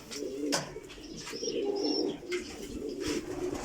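Pigeons kept in a loft coo steadily in low, rolling calls, with a few sharper chirps and flutters mixed in, close by and continuous.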